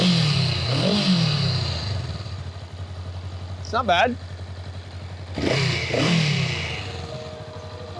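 A 2024 Honda Rebel 500 motorcycle engine idles and revs up twice in short bursts, fairly close, with someone speaking briefly between the revs.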